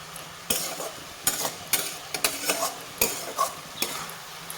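Vermicelli being stirred in a pan for zarda semai over low to medium heat, a soft sizzle broken by repeated scraping, rattling strokes of a utensil about every half second, close and clear with no speech.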